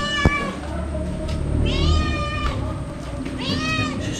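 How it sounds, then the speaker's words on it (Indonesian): A cat meows loudly and close by, three rising, drawn-out cries spread over a few seconds against faint outdoor background noise. "kucing ini mengganggu"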